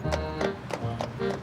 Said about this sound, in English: I like the sound of the horse's hooves.